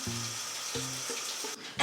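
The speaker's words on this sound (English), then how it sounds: "I decided to go for a shower this morning" A morning shower runs with a steady, close hiss of spraying water, with low humming tones starting and stopping underneath before the sound briefly dips and then returns louder.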